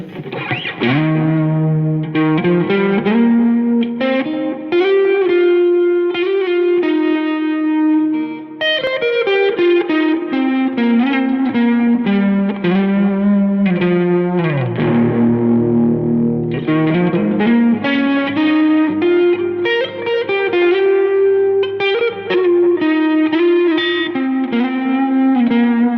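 An electric guitar runs through a layout of effects pedals with distortion, reverb and delay, playing loud, sustained melodic lines and chords that ring out continuously with washed, echoing tails.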